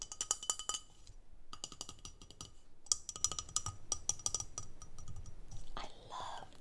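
Glass being tapped and clinked in a quiet ASMR setting, giving a series of light, sharp taps in quick clusters with brief pauses, close and crisp, with a soft swish near the end.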